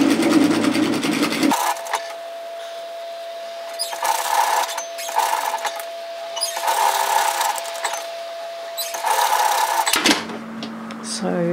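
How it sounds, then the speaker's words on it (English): A domestic sewing machine topstitches around three sides of a shacket, running in several short bursts of fast, even whirring separated by brief pauses, close and moderately loud. "I'm going to top stitch at 5mm again, 1/4 inch, just around those 3 sides"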